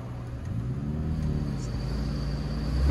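A Subaru stuck in mud holds a steady, loud engine rumble that builds gradually toward the end, with no clear voices over it.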